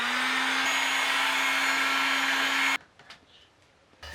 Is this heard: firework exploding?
no